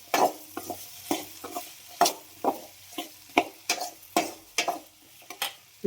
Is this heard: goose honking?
no